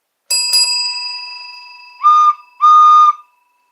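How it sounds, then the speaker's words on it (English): A bright toy-train bell strike rings and decays, followed by two short, loud toy train whistle toots, close and clear with no voices. "That sounds like a toy train."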